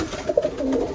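Soft, low pigeon cooing, a brief murmuring call nearby with a faint rustle in the background.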